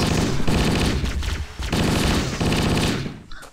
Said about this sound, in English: Somebody's behind me shooting.